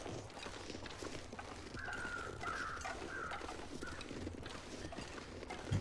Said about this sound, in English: I can hear crows.